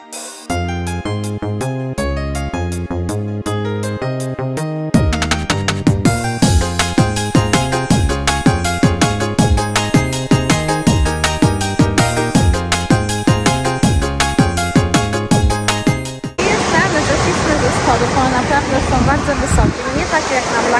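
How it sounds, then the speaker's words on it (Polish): Large ocean waves roll onto Race Point beach with green water, a broad, loud and steady surf roar that takes over after a long stretch of music. "woda jest po prostu zielona, fale są duże jak zwykle"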